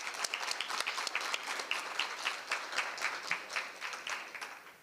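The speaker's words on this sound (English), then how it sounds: "Let's get a huge round of applause for our middle schoolers." Audience at a secondary school geography bee clapping for middle school students, a moderate round of applause with distinct individual claps pulsing steadily throughout.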